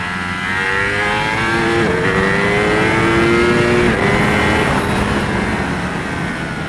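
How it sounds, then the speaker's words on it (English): A sport motorcycle accelerates hard out of a corner, its engine loud and near, rising through the revs in a sustained, climbing roar with a shift partway through. "I love how it comes out of corner and just pulls the fucking wheel up at about 90"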